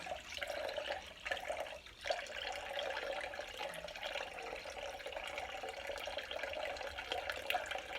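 Water being strained into a keg while home-brewing Mexican cerveza makes a steady, close pouring and trickling wash that runs without a break and without any voices.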